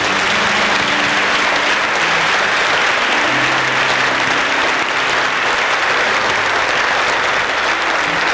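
A church congregation claps steadily and loudly in praise, a dense, continuous wash of applause filling the room from start to finish with no break.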